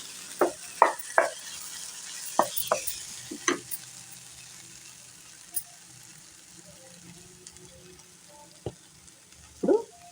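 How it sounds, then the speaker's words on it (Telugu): Spoon stirring mango and lentil curry in a pan, with scattered short scraping and clinking strokes in uneven bursts over a faint background hiss, mostly quiet between strokes. "ఈ కారం కూడా కలిసేలాగా చక్కగా అటు ఇటు తిప్పుకోవాలి"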